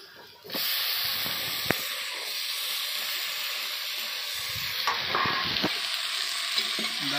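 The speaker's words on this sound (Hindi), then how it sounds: "10 मिनट तक भूनेंगे हम बढ़िया से" Onions browned with masala and salt fry hard in a pan for a chicken curry, a loud continuous sizzle and hiss with a few sharp spatula clacks and stirring scrapes, no voices.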